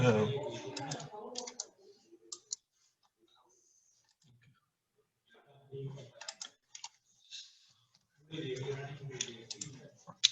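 Typing on a computer keyboard comes as bursts of quick light clicks and taps, mixed in with a person talking close by.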